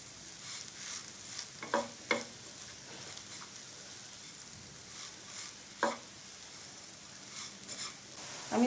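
Semolina halwa is stirred in a pan, with soft scraping strokes and a few sharper knocks of the spoon over a faint hiss, quiet and close with no talking.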